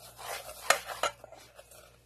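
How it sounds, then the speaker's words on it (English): Sweet and sour sauce with a dash of salt being whisked in a bowl, with soft scraping swirls and a couple of sharper clinks of the utensil against the side, quiet and close. "now I'm going to just whisk this together"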